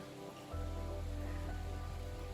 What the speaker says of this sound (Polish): A te smugi na krajobrazie to padający deszcz. Deszcz, tak, pada na nas